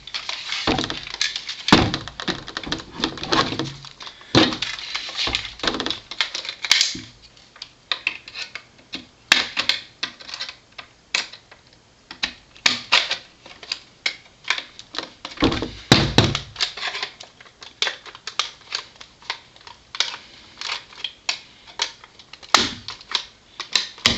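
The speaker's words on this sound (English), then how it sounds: "use a normal flathead, and start prying the body apart" A flathead screwdriver pries apart the body of a JG G36K airsoft gun, producing irregular close clicks, plastic snaps and dull thunks scattered across a long stretch with short quiet gaps, and no voices.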